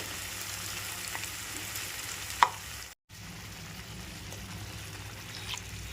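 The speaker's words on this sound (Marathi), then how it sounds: "पाणी घालूया" A steady, soft rush of water pours into a pan, with a brief clink and a short gap before the flow resumes.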